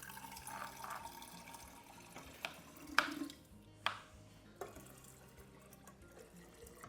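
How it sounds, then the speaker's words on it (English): Water is poured into a pitcher while making lemonade, heard as a quiet, soft running trickle with scattered drips and a few sharp clinks or knocks, fairly faint overall. "we're gonna add 6 cups of water to this pitcher"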